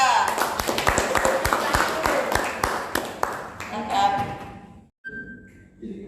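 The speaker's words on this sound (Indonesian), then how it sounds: "beri aplaus untuk kelompok 3" Classroom applause for a student discussion group about to present, a burst of scattered clapping from a small group that fades after about four seconds, followed by a brief pause and then a voice beginning to speak.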